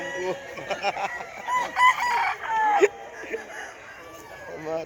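A rooster crows amid a busy outdoor scene at a gamefowl expo in Mantalungon, Barili, Cebu, with people chatting nearby and other fowl clucking in the background.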